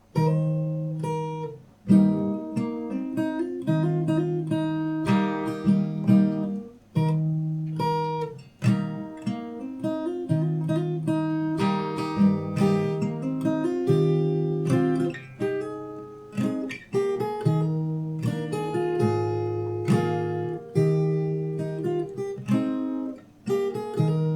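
Solo acoustic guitar picked fingerstyle, playing the solo of a song, a steady flow of melodic notes over bass lines, played close and clear with no voices.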